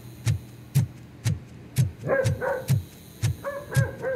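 A dog in a Robocop video game barks in a steady series of about eight sharp, evenly spaced woofs, some with a whining yelp after them, loud and alone.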